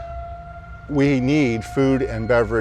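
An outdoor warning siren holds a steady, droning tone in the background while a person talks loudly over it in the foreground.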